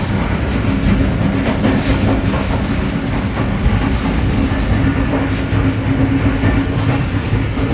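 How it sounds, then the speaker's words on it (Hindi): The Karachi Express, a passenger train in Pakistan, runs at speed past Mian Channu railway station, with a loud, continuous roar and rhythmic clickety-clack of wheels on the rails. "कराची एक्सप्रेस और बहुत अच्छी स्पीड है। मियाँ चन्नू रेलवे स्टेशन एक अच्छी स्पीड में गाड़ी कर रही है थ्रू पास।"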